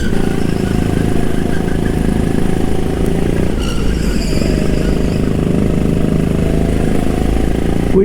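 A go-kart engine accelerates during a 12-minute endurance race at an outdoor karting park, a steady close, loud motor drone with a brief rise in pitch partway through.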